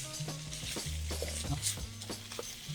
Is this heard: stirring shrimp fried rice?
yes